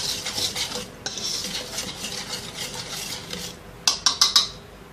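A spoon scrapes and rustles through dry pizza dough ingredients in a bowl: sugar, yeast, powdered milk and salt. A quick run of sharp metallic clinks against the bowl comes at the end.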